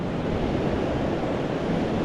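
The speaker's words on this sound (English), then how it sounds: "It's about 30-mile-an-hour winds." Strong wind of about 30 miles per hour at an outdoor spot at sunset roars steadily into the microphone as a loud, continuous rumbling buffet with no pauses.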